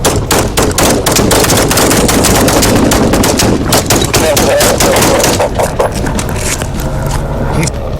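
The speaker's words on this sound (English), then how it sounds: "Additional shots fired." Gunfire in a police shootout with an AR rifle and a handgun: rapid bursts of loud, sharp shots crackling in quick succession throughout, close and harsh, with shouting voices mixed in.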